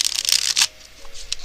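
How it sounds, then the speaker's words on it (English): Tarot cards are riffled close up in a few quick bursts, then a pause and a couple of softer flicks, with no talking. "I'm going to shuffle one more time."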